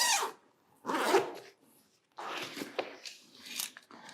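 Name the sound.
unzipping a tripod bag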